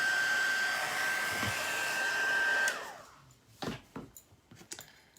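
A hair dryer blows steadily on chalk paste at close range with a constant whine, then cuts off partway through, leaving scattered handling thumps and rustles.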